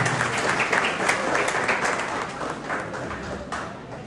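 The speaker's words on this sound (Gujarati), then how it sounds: "આપણે તાળીઓથી બંનેને વધારતા રહીએ." Dense, steady applause from an audience at a Kshatriya Kardiya Rajput community ceremony honouring bright students. Many hands clap together, loud and sustained for the full four seconds, with only a slight easing toward the end.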